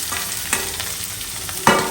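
Capsicum fries in a pan for red sauce pasta, with a close, steady sizzle, a couple of light stirring scrapes, and a louder hiss near the end.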